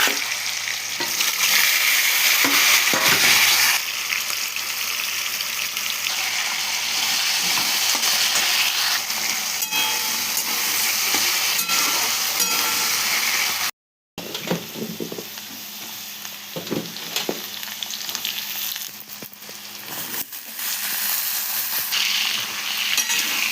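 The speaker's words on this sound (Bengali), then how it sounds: "সবজিগুলো একটু নেড়ে চেড়ে নিচ্ছি" Mixed vegetables (potato, green banana, eggplant, pumpkin, long beans, pointed gourd) sizzle loudly in a pan while being stirred, with continuous frying hiss and scraping, a short break near the middle.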